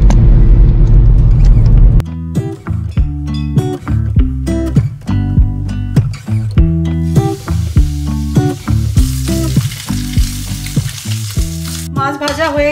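Fish frying in hot oil in a home kitchen: a steady close sizzle broken by repeated clattering knocks and scrapes of a utensil against the pan, loud and continuous with no voices.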